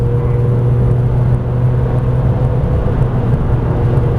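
A Porsche 997 GT3 lapping Silverstone circuit, its engine a loud, close, steady in-car drone with a strong low hum and constant road and wind rumble, no pauses.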